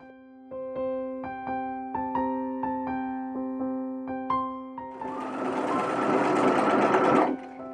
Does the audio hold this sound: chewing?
no